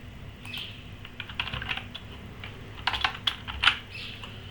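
Rapid, uneven keystrokes on a computer keyboard as details are entered into a Django website sign-up form, clicks clustering in short bursts with a louder run near the end, close and alone with no talk.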